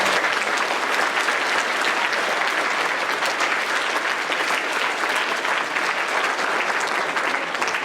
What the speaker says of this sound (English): We could real quick give them one big more round of applause.